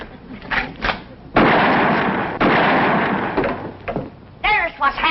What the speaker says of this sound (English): It took you 2 shots to get that wire.